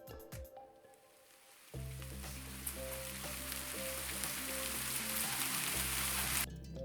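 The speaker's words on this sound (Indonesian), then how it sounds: "efek suara tentang hujan itu ada ya" A rain sound effect played back from a library on a computer. After a few clicks, a steady hiss of rainfall begins, layered over low sustained tones, and continues to the end.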